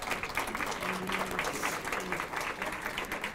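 A room full of people at an awards ceremony claps continuously, a dense, steady patter of applause with a few voices faintly mixed in.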